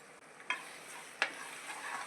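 Spices fry in oil for a chicken curry with a soft, steady sizzle. Two sharp clinks of stirring cut in close up, and there is no talk.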